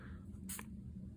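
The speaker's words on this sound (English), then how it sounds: "spritz the card. And this is just water that I have in a little thing, little spray bottle." A small handheld spray bottle gives one quick spritz of water onto a playing card at close range, a short hiss over quiet room hum.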